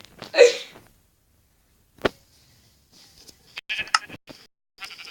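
A sheep in Minecraft bleats once loudly near the start, followed by scattered short clicks and brief game sound effects with quiet gaps.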